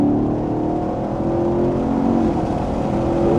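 A Camaro SS 1LE runs a club track day at VIR, its loud, steady engine droning and whirring at high revs from inside the car, with a rising tonal whine and no talking.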